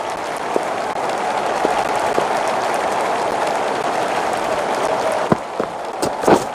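Stadium crowd applause in Don Bradman Cricket, a steady wash of clapping sustained throughout with a few sharp knocks toward the end.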